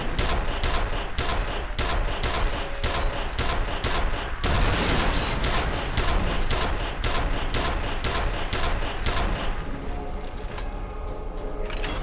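Rapid, dense bursts of enemy laser gunfire in the F.E.A.R. video game, loud and close, keep up a continuous volley for most of the stretch before easing into a thinner tail near the end.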